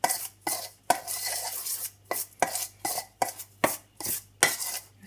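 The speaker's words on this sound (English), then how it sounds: "mix it with the knife" Egg being mixed into cookie dough with a knife, a series of distinct scraping and clacking strikes against a bowl in an irregular rhythm, close and fairly loud, with no talk.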